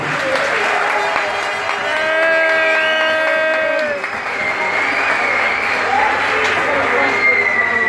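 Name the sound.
audience applause for Markos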